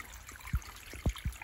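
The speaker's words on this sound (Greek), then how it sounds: "Φτάσαμε εδώ σε μια μικρή ρεματιά λοιπόν και δείτε τώρα που έβρεξε, έχει νερό." Water trickling through a small forest ravine after rain, with a few soft, separate gurgles and drips over a quiet, faint background of flowing water, no talk.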